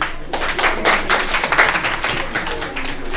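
Clapping from people at a community coordination meeting, a quick run of close, fairly loud hand claps in uneven rhythm, with a voice faintly mixed in.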